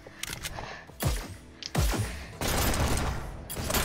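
An SMG fires in the futuristic VR shooter Hyperdash, heard as bursts of rapid synthetic gunfire with sharp onsets and sustained rattling, close and loud, with no speech.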